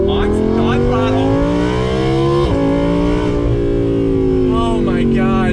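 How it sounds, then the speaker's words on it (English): A loud 2018 Audi R8 V10 Plus Spyder engine roars with strong rising harmonics, then drops pitch sharply as it downshifts, with the revs climbing again afterward. "Oh my God, downshift, listen to that thing."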